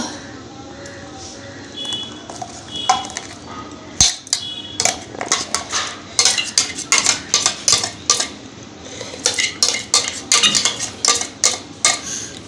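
Poppy seed paste goes onto washed chicken pieces in a bowl for homemade chicken chaap, with close, irregular clinks and knocks of a spoon against the dish that grow busier and more rhythmic toward the end.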